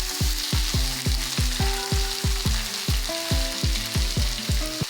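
Grated ginger and garlic frying in a pan with onion and tomato for a spicy red chilli egg curry, a steady close sizzle under a rhythmic series of tonal knocks, with no talking.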